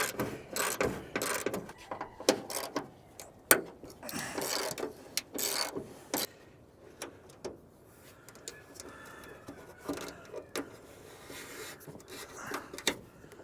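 A ratchet loosens bolts on a blown RV tow vehicle engine during a rebuild, with irregular bursts of rapid clicking, up close, separated by brief pauses and metallic clanks.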